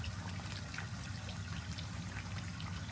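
Water trickles and splashes down the waterfall of a garden fish pond, a faint, steady outdoor babble that runs unbroken throughout.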